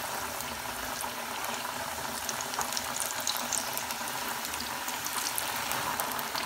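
Chicken pieces frying in hot oil in a deep pan, a dense continuous bubbling sizzle with crackling pops throughout, close and steady.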